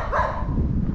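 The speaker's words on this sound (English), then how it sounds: "another dog's barking." One dog barks in a short burst nearby outdoors on a residential street, brief and fairly loud.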